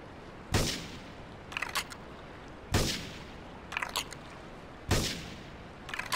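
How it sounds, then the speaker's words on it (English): Gunfire in the video game Grand Theft Auto 3 rings out as three evenly spaced, loud single shots. Each crack is followed by a short clattering echo, with a quiet background between shots. "investigating reports of gunfire and explosions"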